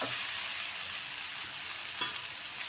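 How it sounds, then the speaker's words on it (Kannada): Cooked rice is tipped into a pan of ridge gourd gojju and stirred, giving a steady, close sizzle with soft scraping and a couple of sharp knocks, with no voices. "ಒಂದು ಬಟ್ಲು ರೈಸ್ ತೊಗೊಂಡಿದ್ದೀನಿ ರೈಸು ಹಾಕ್ತಾಯಿದ್ದೀನಿ"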